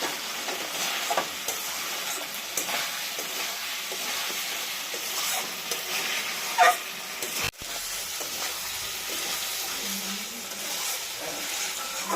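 Masala spices for a potato-tomato snakehead fish curry fry in oil in a home kitchen, giving a steady close sizzle with occasional stirring scrapes and one sharp knock midway; no one speaks.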